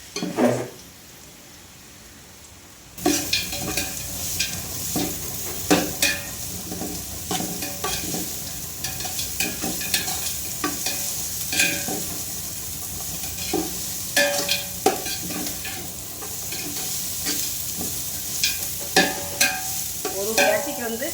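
Onions sautéing in about two hundred grams of oil for coconut rice, a steady close sizzle with frequent stirring scrapes of a spoon against the pan, starting after a quieter opening.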